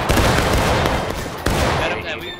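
Civil War musket volleys in War of Rights crackle as a dense, ragged fusillade of overlapping shots, loud and sustained, fading at the end.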